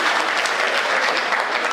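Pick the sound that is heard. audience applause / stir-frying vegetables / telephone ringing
audience applause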